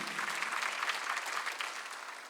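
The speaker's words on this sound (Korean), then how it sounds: "우리가 그런 걸 믿으시면 박수를 치며 하나님께 올리시라고." A congregation applauding during a church worship service, an even, continuous patter of many hands clapping together, moderately distant and unbroken by speech.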